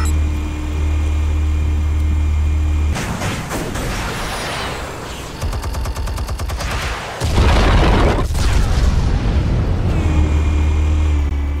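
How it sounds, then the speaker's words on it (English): Explosives detonate in a Batman video game on Xbox Series X, with heavy low booms and crashing debris bursts over a constant low rumble, loud and close, in several separate surges of blasts and clatter. "Explosives armed. Fire when ready."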